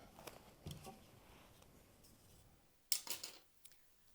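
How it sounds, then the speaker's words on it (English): Scissors roughly cutting away paper embroidery stabilizer, quiet and close: a few soft snips early on, then a sharper cluster of crisp cuts near the end. "I'm just going to take my scissors that I have designated for paper stabilizer, and I'm just roughly cutting that away"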